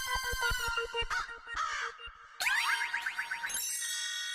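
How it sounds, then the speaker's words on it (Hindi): Cartoon crows caw in a rapid, repeated series of nasal, harsh calls, loud and close, with a short pause before a second burst of squawky cawing. "काव काव काव काव काव काव काव। लीजिए, कौवे तो आ गए।"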